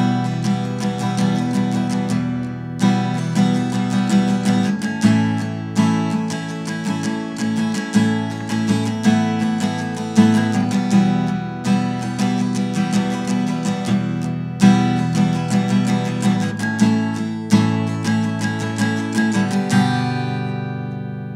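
Electric guitar playing a chorus variation of a song, strummed chords with regular accents repeating throughout, close and loud, with no talking.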